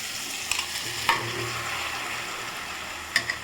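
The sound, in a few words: frying chicken with onion and tomato in a pan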